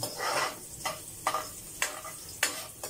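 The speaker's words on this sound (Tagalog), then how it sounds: "gigisahin natin konti. At pagkatapos susunod natin yung bawang." Garlic and ginger sautéing in a hot pan for a Filipino green papaya dish, a steady sizzle broken by four or five scraping stirs at a regular pace, close and fairly loud.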